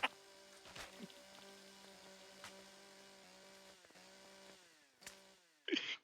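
A buzzing chainsaw engine in the video game Empyrion drones steadily with shifting pitch, punctuated by sharp clicks and a louder burst near the end.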